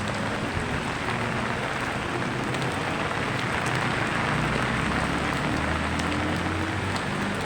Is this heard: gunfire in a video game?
no